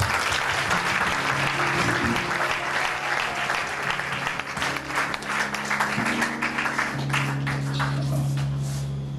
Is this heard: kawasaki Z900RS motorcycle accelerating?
no